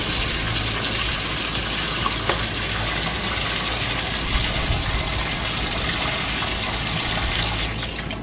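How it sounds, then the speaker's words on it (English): Water gushes steadily into a 9 litre bucket during a flow test of a newly trenched line, a continuous loud rushing fill that holds even for about eight seconds before easing slightly at the end. "we're going to see how long it takes to fill up a 9 litre bucket of water"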